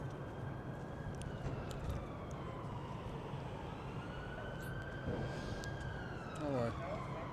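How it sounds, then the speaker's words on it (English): Ambulance siren sounding fairly faint and distant, its wailing tone gliding slowly up and down beneath steady background traffic noise during a street encounter with police. "That's ambulance."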